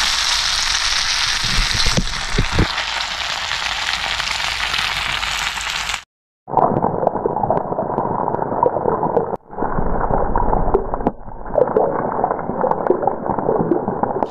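Grass carp pieces fry in hot oil, a loud, close, continuous sizzle and bubbling that cuts off abruptly, then resumes duller in several takes separated by short gaps.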